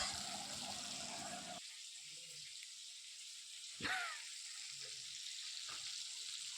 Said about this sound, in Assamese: আৰু এতিয়া মই ফ্ৰাই কৰি আছোঁ মাছখিনি